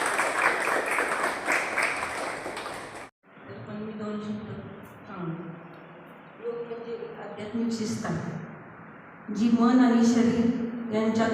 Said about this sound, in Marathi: ओके आता जरा जोरदार टाळ्या सगळ्यांच्या